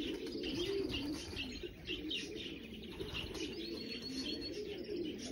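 Racing pigeons coo steadily and continuously at close range at a loft after arriving from a 130 km race, with occasional chirps and a faint flutter of wings among them.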